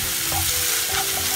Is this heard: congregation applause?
no